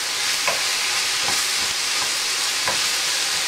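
Cabbage eggroll filling with hoisin sauce being stirred in a hot pan, a steady sizzle with a few soft scraping strokes of the utensil spaced through it.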